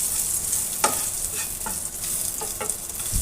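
Onions are stir-fried in hot oil until reddish: a bright continuous sizzle with a few sharp scrapes of the spatula across the pan.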